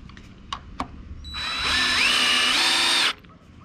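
Power drill driving screws into the frame of a hogwire fence panel: a couple of short taps, then one close, loud whirring run lasting about two seconds that climbs in pitch partway before cutting off.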